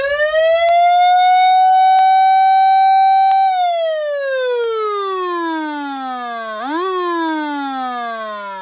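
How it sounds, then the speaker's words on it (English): A loud electronic fire truck siren on a 1995 Honda Acty fire truck conversion wails up to a held pitch, then slides down, briefly jumps up and keeps falling, with faint clicks underneath. "And then the regular siren."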